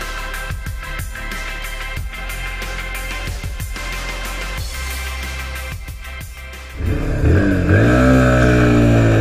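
A SYM NH125X 125cc motorcycle idling with a few short throttle blips, then revving up and pulling away, the engine note climbing through the gears, loud and close.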